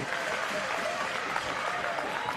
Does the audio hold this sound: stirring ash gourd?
no